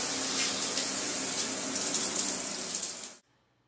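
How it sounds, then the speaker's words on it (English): A shower hose sprays water steadily into a bathtub, a loud, even hiss and splash for about three seconds before it cuts off abruptly into near silence. "And now we could come and spray this whole thing off."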